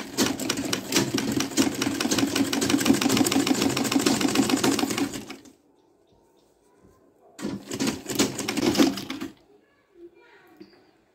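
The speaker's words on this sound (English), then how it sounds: "So you keep doing this stitching straight down." A sewing machine stitching a bias seam on an A-line top runs steadily and close for about five seconds, pauses, then runs again for a shorter burst of rapid, even stitching.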